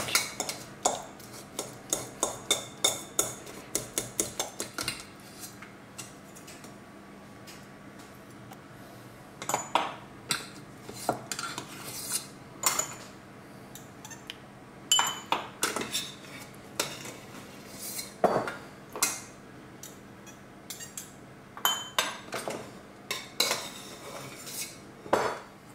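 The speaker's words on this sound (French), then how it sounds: "Et on va écraser la courge." Squash for oeuf cocotte with Livarot is mashed with cutlery against the edge of a dish, producing irregular bursts of sharp metallic clinks and scrapes, close and fairly quiet, separated by short pauses.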